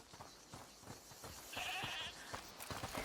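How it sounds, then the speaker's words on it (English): A goat bleats several times at moderate distance in the video game A Plague Tale: Requiem, with faint ambient game noise around it and no talking. "Listen, is that the goat he talked about?"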